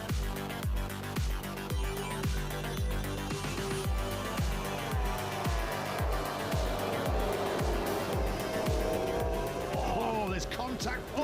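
Grid of MotoGP racing motorcycles leaving the line at the lights-out start of the Portuguese Grand Prix, engines roaring loudly and continuously with rapid repeated gear-change pulses, under a commentator's voice.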